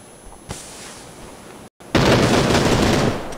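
Gunfire in a battle royale video game: a short single shot around the half-second mark, then after a brief dropout a loud, dense burst of rapid automatic fire that continues for over a second before easing slightly.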